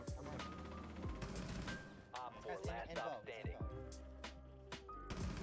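Gunfire from the operator Lesion's weapon in the video game Rainbow Six Siege, loud rapid bursts of shots with sharp impacts and a few thuds, running through most of the stretch.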